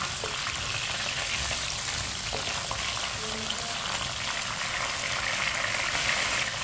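Vermicelli (seviyan) cooks in a pan for sweet meethi seviyan, producing a constant dense sizzling hiss that stays close and even from start to finish, with no talking.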